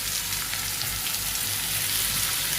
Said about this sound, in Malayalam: നമ്മളതിലേക്ക് നമ്മൾ കഴുകി ഊറ്റി വെച്ച അരി എടുത്ത് ഇടാട്ടോ